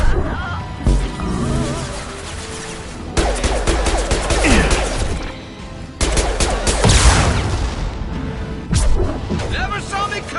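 Loud, dense gunfire and explosive crashes in the Mass Effect 2 video game, including a sniper rifle shot, with heavy layered bursts and game effects, under speaking voices.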